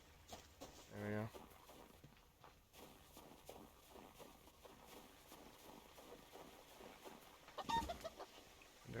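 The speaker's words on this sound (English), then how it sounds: "There was another chicken right up there." Chickens in the hunting game Subsistence cluck in short, faint bursts amid soft footsteps, with quiet talk in places.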